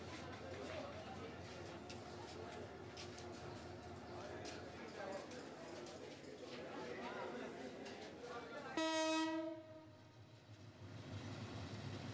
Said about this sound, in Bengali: বুধবার সকাল থেকে ময়মনসিংহ, রাজশাহী, চট্টগ্রাম সহ বিভিন্ন রুটে চলছে ট্রেন।